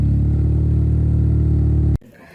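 A BMW E30 engine revs hard through a long exhaust, a loud and steady droning roar held for about two seconds before it cuts off sharply into quieter background noise.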